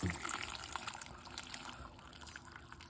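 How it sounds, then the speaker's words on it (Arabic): Hot water from a clay jug trickles over peeled, sliced eggplant in a kitchen, a soft, continuous splashing flow that stays fairly faint and steady throughout, with no talking. "وهنزل عليها مية سخنة من القلة"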